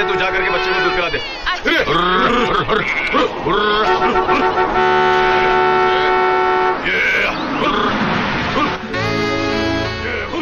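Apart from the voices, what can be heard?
vehicle horn honking at sheep on road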